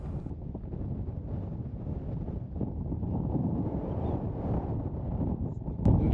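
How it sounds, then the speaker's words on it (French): Wind buffets a microphone along a road in the Andes region near Bariloche, a dense continuous low roar lasting several seconds with a brief thump near the end, no talk over it. "Comme on peut l'entendre aussi, c'est le vent qui régnait dans cette région."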